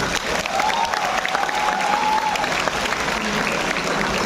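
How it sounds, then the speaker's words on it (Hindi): Sustained audience applause at a university event in a large hall, a dense continuous roar of clapping with some crowd noise throughout, fairly loud and unbroken, with a faint tone running through the middle. "आप सारे लोग तालियां बजाते रहें।"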